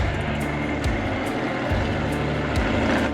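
A 2010 Super Cobra Jet car engine roars loud and steady at a cars and coffee meet, a continuous heavy rumble with low harmonic tones that shift up and down as it revs.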